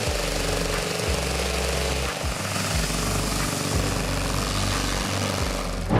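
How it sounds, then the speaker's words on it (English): A tiny Colomban Cri-Cri mini aircraft runs its twin 15-horsepower engines in a loud, continuous, buzzing drone with a rapid pulsing beat that holds throughout. "The model you see here is equipped with a pair of 15-horsepower engines"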